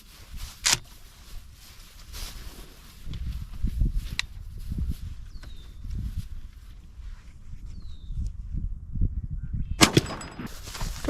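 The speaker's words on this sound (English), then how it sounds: "First shot is off." A shotgun fires a Boss Shorty shell through a Muller decoy choke at 25 yards outdoors, giving a sharp single report, followed by quieter shuffling and movement.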